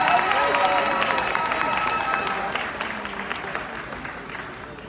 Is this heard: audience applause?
yes